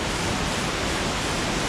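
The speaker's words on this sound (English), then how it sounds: "And then another waterfall over there." Waterfall on Vancouver Island, a steady broadband rush of falling water that holds constant and fairly loud throughout, with no voices.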